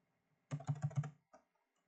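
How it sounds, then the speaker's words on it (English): A short burst of quick keystrokes on a computer keyboard, close and clear, with about five rapid taps and then a lone final click, in an otherwise quiet room. "this time type in Geocoding"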